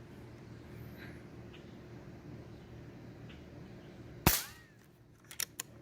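.22 caliber air rifle pellet shots, a sharp loud crack followed by a few quicker, fainter snaps against a quiet background.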